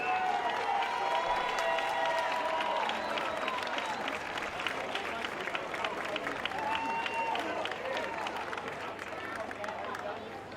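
A parade crowd at the 2019 Strolling of the Heifers claps steadily in a dense, sustained wash of applause, with voices talking over and through it.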